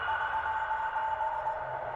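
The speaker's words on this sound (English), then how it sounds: "Is it like a Morse code?" An unbroken series of short electronic beeps in a Morse-code rhythm plays over a low ambient hum in the game Without a Dawn, clear and steady with no one speaking.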